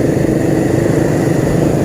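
A motorbike engine runs with a steady, close rumble that holds without a break for the whole stretch, with no one talking over it.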